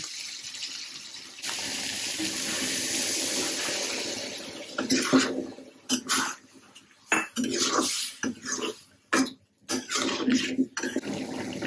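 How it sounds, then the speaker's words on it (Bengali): Water runs from a tap and is poured into a pan while making a cucumber and prawn curry, a steady splashing stream followed by clinks and clatters of a metal pot and utensils nearby. "আমি এখন পরিমাণ মতো জল দিয়ে দিব।"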